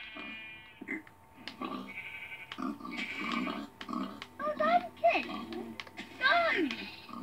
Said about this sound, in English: There's a pig out here.